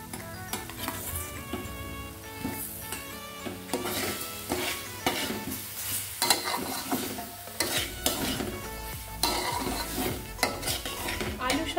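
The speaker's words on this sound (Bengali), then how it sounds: "আলুর সাথেও আমি মশলাটাকে ভালোভাবে কষিয়ে নিয়েছি।" Potatoes and spice paste being stir-fried in a pan for a Bengali fish curry: continuous scraping and clattering of a utensil against the pan with soft sizzling underneath, steady and close throughout with no talk.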